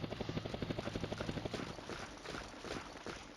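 Attack helicopter in the wargame Flashpoint Campaigns: Red Storm, a rapid rhythmic rotor thumping that fades into a softer whooshing drone as it moves off, moderately quiet, no talk.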